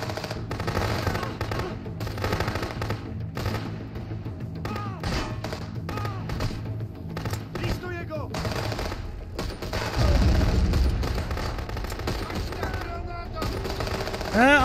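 Rapid bursts of automatic gunfire and repeated shots in the video game Contraband Police Simulator, loud and dense throughout, with a heavier explosive thump near the middle and brief talk mixed in.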